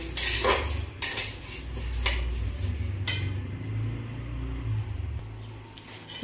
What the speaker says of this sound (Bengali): মুগ ডালটা আমি হালকা ভাজা ভাজা করে নেব